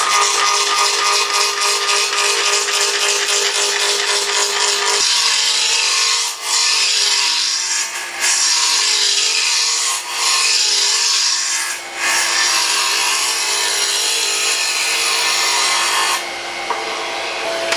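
A wooden tool handle spins on a lathe while a cutting tool scrapes and shaves it round, a steady high rasping hiss with a few brief dips as the tool lifts, no talk.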